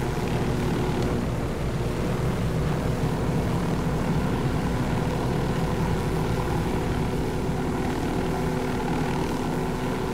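A continuous, loud helicopter engine drone with rotor chop in the video game Ghost Recon: Wildlands, steady throughout with no pauses.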